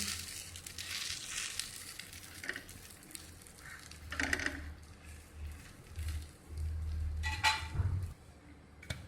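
Aloo wadi pieces roast until crisp in a hot pan, giving soft intermittent sizzling and crackling with occasional louder bursts and low rumbling handling noise, no voices.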